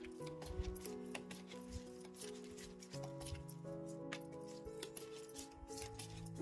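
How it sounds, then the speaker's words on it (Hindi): Tarot cards being shuffled by hand, a soft run of papery riffles and small clicking snaps under steady background music, with no speech. "शुरुआत करते हैं कार्ड शफल करके"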